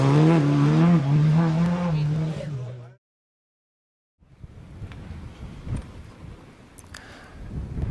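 A rally car engine revs hard and rises in pitch, then cuts off into silence, after which distant engine noise and crowd sounds return, with a commentator's voice faint in the background.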